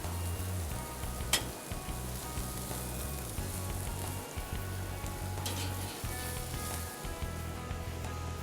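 Hamburger patties fry in a pan with a loud, continuous sizzle and crackle, close up, with a few sharper pops and no talking.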